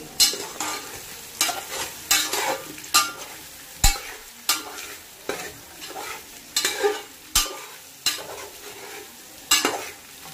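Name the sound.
stirring and mixing soya biryani in a pan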